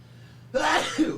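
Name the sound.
sneeze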